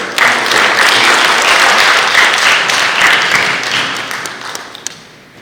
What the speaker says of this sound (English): I think we should all give a round of applause to us.